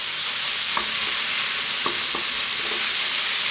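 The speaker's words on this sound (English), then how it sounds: "next up we're going to add our garlic ginger paste" A 50-50 garlic and ginger paste frying in a pan for Indian vegetable fried rice makes a loud, constant close-up hiss and sizzle, broken by a few faint taps.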